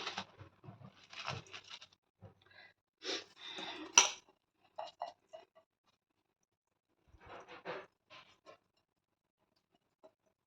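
Rice tipped into a cooking pot and stirred while making bisi bele bath, heard as soft scattered clinks and scraping taps in short irregular bursts, fairly faint, with quiet pauses between.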